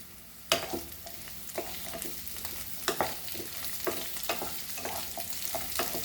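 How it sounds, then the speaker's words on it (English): Capsicum sautés in hot ghee over a high flame, giving a steady sizzle broken by sharp scraping strokes from a spatula as the pieces are stirred and tossed in the pan, close and fairly loud. "You just saute on high flame"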